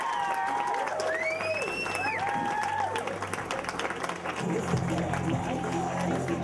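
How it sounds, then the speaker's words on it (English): A comedy club crowd applauds and cheers steadily, with whoops rising over the clapping and a few voices calling out in the mix. "Another round of applause."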